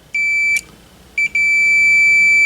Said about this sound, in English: we're going to touch pin 4 and do a continuity test